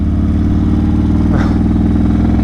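A Jaguar F-type sports car passes with a loud, throaty engine note that surges briefly as it goes by, over a steady drone of the listener's own car.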